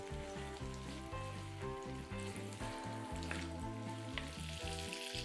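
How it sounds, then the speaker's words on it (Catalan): Chopped onion with diced red and green peppers frying in a casserole dish, a steady soft sizzle running continuously and evenly throughout, with music playing over it. "afegeixo en la mateixa cassola la ceba i el pebrot vermell i verd tallats petitonets. I ara això deixaré que es vagi sofregint."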